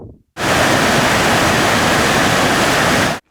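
A waterfall in Yugyd Va national park roars in a loud, dense, continuous wash of white noise that starts abruptly and cuts off just as suddenly, with no voices.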